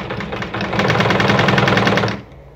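A Juki Dia Rotary 7 sewing machine sews a buttonhole with a rapid, even mechanical chatter of stitches, loud and close, for about two seconds before stopping.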